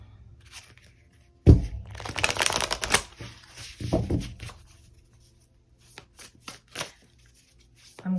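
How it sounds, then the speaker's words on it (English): Oracle cards shuffled by hand for a tarot-style reading, a loud riffling burst followed by a second shorter flurry, then sparse soft taps and card handling, close up with no talking. "We are going to get some oracle cards."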